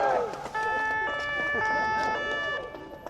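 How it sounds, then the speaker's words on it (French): A police car siren wails repeatedly with a steady tone at an amateur football match celebrating a goal, heard at moderate distance under excited commentary and crowd noise. "les policiers qui ont mis la sirène pour ce but"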